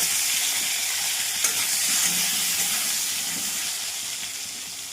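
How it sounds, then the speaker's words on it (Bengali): Potatoes fry in oil, the same oil just used for frying katla fish, giving a continuous close hiss and sizzle that slowly fades a little, with no talk. "এবার এই তেলের মধ্যে আলুগুলো ভেজে নেব।"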